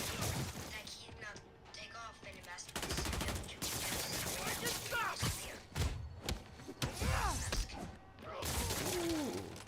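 Bursts of gunfire and crashing impacts break out in Marvel's Spider-Man Remastered, with shots and thuds scattered through the clip under voices and game chatter.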